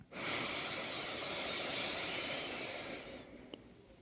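A long, deep inhalation during a guided breathing exercise: one steady, close, airy hiss lasting about three seconds that then fades, with a faint click afterward.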